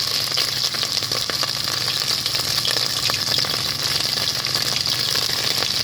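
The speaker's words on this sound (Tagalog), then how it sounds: "Magpiprito tayo ng fish." Fish frying in a pan, a steady close-up sizzle of hot oil crackling continuously without pause, with occasional stirring sounds and no talking.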